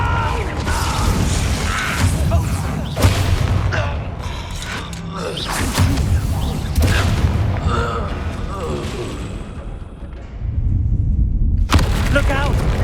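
Confringo fire spells explode during a troll fight in the PS5 game Hogwarts Legacy, with repeated heavy booms and crackling bursts over dense mechanical battle noise and intermittent muffled game voices.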